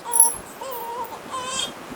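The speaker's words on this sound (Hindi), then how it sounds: "जोर जोर से बच्चा रोन लग रहा है" A baby wails in short rising cries, moderately loud and slightly distant, with no talking over it.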